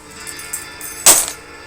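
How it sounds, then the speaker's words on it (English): Keys set down on a surface indoors, a single close metallic clatter and jingle lasting a fraction of a second, preceded by faint handling sounds. "put my keys over there real quick."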